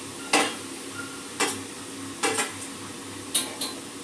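Mint and coriander paste is stirred in a cooking pan, with a spoon scraping and clinking against the metal every second or so over a steady low sizzle.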